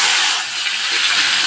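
Chopped onion and tomato frying in hot oil with cumin seeds and bay leaf, a steady, close, loud broadband sizzle and hiss that holds evenly throughout with no talking.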